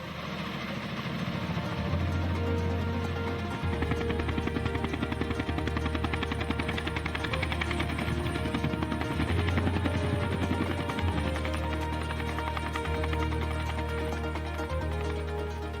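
A Bell 212 helicopter for 12 passengers flies on a pipeline construction job, its rotor chop a dense, continuous pulsing drone with a steady engine whine, loud and sustained throughout, no talk.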